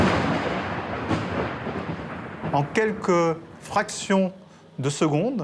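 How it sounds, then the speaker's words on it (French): Thunder from a lightning strike rumbles as a dense, steady roar through the first half, then drops back beneath someone talking in French. "Cette onde de choc, c'est ce qu'on entend, c'est le tonnerre."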